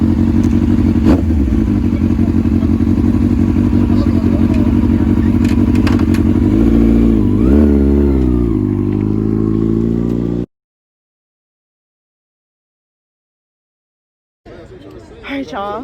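A motorcycle engine runs steadily and loud for about ten seconds, with a rising rev partway through, then cuts to silence before a short burst of voices and movement.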